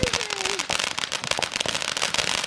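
Dense rapid crackling bursts of amateur fireworks and firecrackers pop continuously from many directions at once, loud and close, with a whistling rocket sliding down in pitch early on and a voice speaking underneath.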